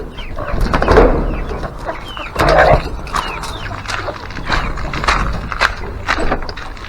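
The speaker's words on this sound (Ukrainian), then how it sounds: "Вже кури наші успів відкрити, як вони вже біжать." Backyard farm hens clucking and squawking in a busy flock as they are let out, with creaking and rattling nearby throughout.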